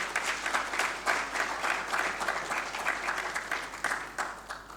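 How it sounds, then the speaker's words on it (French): Audience applause at a financial-market ceremony, a plaque presentation for a bond listing on the BRVM, as a crowd claps steadily and densely throughout, fairly close and sustained without a break. "Sous vos applaudissements, s'il vous plaît."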